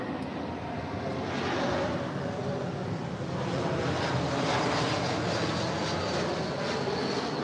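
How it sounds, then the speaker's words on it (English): A Delta Airlines Airbus A220-300 arriving from Portland lands at LAX, a broad sustained jet roar heard from a moderate distance, steady and swelling slightly, without talk over it. "And this is Delta Airlines 1420 coming in from Portland, Oregon. It is an A220-300."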